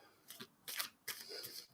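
A deck of tarot cards is shuffled in three or four quick, crisp riffles of paper flutter, close and faint, with brief pauses between them.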